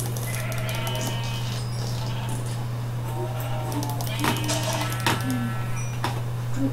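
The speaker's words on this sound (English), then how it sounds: "I found some sheep. I'm gonna kill them for their wool." Sheep bleating in a multiplayer survival video game, small game-sound calls over a steady low hum with scattered clicks, while a player talks throughout.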